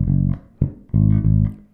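A bass guitar plays a line, with sustained low notes broken by short muted, choked notes filling the gaps between them, heard alone and fairly loud.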